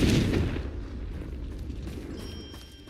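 The Confringo blasting curse in the game Hogwarts Legacy sets off a loud, close explosion that starts with a sharp burst and fades into a long rumbling decay.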